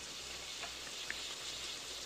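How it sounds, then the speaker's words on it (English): Steady rain falls outside, a continuous even hiss of drops with a few faint pattering ticks, moderately quiet and uninterrupted, with no voices. "It's raining."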